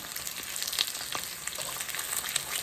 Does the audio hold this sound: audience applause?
no